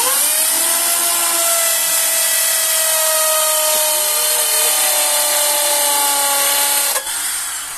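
Power screwdriver whining steadily as it drives screws into a small wooden stool, a continuous high motor tone with shifting pitch that cuts off near the end.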